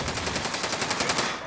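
A rapid burst of automatic gunfire from Call of Duty: Modern Warfare, about a dozen sharp, evenly spaced shots rattling loudly in quick succession with no speech.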